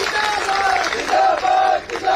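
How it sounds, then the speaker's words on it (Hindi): A rally crowd roars and chants slogans together at a political gathering, the voices rising in sustained loud shouts with brief dips between phrases. "आप लोगों ने नारा भी लगा दिया, हाँ भी बोल दिया, ताली बजा दी"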